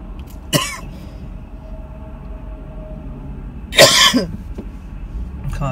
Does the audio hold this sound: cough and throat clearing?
yes